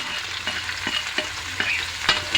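Onion, garlic and tomato sauté in a pan for beef caldereta, a close frying sizzle broken by several sharp spatula scrapes and stirs at a quick, uneven rhythm.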